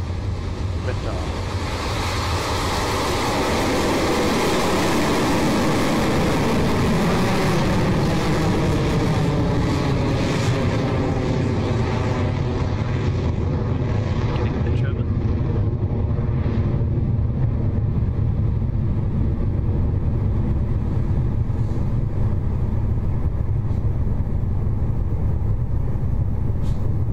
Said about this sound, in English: Electron has left the pad at Rocket Lab Launch Complex 1 in New Zealand